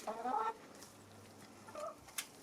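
Chickens clucking near the start while picking between Australian snacks like fairy bread and a Vegemite sandwich, a short burst of close fowl calls followed by quieter pauses and a brief sharp sound near the end.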